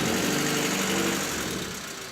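A car engine idles while warming up on a cold day, giving a steady, close mechanical hum with a faint rhythmic knock that eases slightly toward the end.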